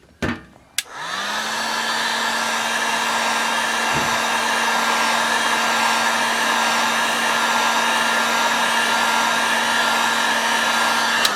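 A hair dryer blows hot air onto a sticker on a new snow brush to loosen it for removal; after a brief click it starts and holds a loud, steady whine and rush alone for the rest of the stretch.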